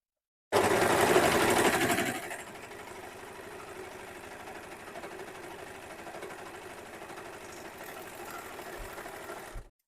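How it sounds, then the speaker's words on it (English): An overlocker stitches fabric in a loud, fast mechanical buzz for about two seconds, then drops to a quieter steady whirring run until it stops abruptly at the end. "You just want to be really careful when you're overlocking that you're not going to accidentally cut or catch a bit of fabric underneath"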